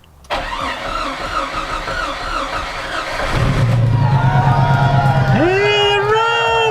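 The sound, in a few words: Jeep YJ engine starting and running after fuel pump install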